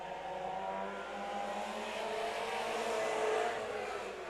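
Stock cars race at Stockton 99 Speedway, a steady distant drone of engines that gradually swells and fades as the pack circles the track, with no voices over it.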